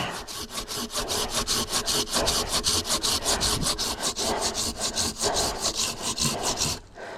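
Wood is sawn for campfire firewood at a lakeside camp in Ontario, with fast, even, rhythmic strokes that are loud and close. A brief pause comes near the end.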